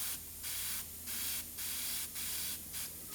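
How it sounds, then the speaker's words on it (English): Airbrush spraying thinned paint onto a dragon model in close bursts, a steady airy hiss that starts and stops about six times in a regular rhythm, with no voices. "The closer you hold the airbrush to the piece, the finer the lines you can do."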